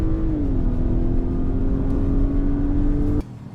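A 2024 Lincoln Corsair, front-wheel drive, spins its front wheels at a drag race launch, producing a loud, steady droning whine at a nearly constant pitch that cuts off abruptly near the end.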